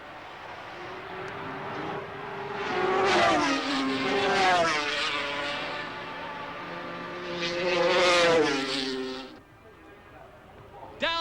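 Racing motorcycles, including a Kawasaki, roar loudly around a circuit, engine notes rising and falling in two passing swells, with a calmer, quieter stretch near the end.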